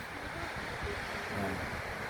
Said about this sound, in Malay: Jadi nyo suasana je laut.